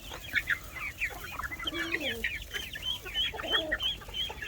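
Brahma and other chickens cluck continuously in a coop, a busy overlapping chorus of close, fairly loud calls with no pauses.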